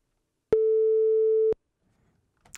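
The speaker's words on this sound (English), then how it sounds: "We hear the sine wave just like we're in the mini audical" A steady pure sine tone produced by a ChucK program on the command line sounds for about one second at constant loudness, starting and stopping abruptly, then silence.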